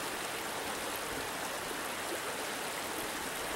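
A creek runs steadily and close by, a continuous broadband rush of flowing water with no voices.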